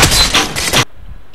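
Burst of gunfire from a weapon in the video game Happy Wheels, several loud close shots in quick succession over about a second, then a sudden cut to near silence.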